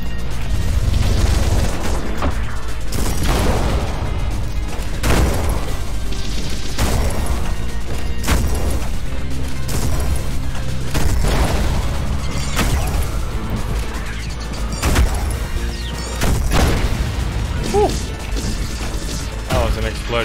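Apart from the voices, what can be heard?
explosion in the video game Ultrakill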